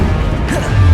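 Confringo blasting spell from Hogwarts Legacy: a loud, dense impact burst with a crackling smash and low rumble sustained through the second, no talk.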